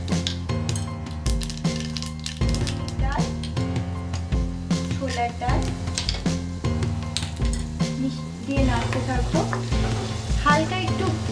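Asafoetida and mustard seeds fry in white oil for a South Indian style chichinga bhaja, giving a steady sizzle that runs under loud, continuous background music throughout.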